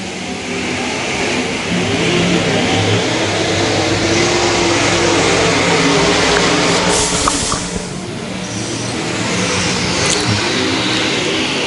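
B-Mod dirt track race cars roaring through a heat race, a loud continuous engine drone with rising and falling revs as the pack passes, some louder surges midway.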